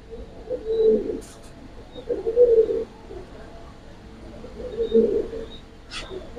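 Giribaz Pakistani high flyer pigeons, a cumin-coloured pair, give three low rolling coos at a steady pace, close and clear in a quiet room, with faint clicks between them.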